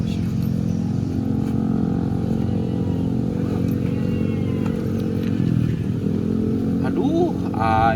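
A broken-down motorcycle's engine rumbles and revs close by in a continuous low drone, with people talking over it.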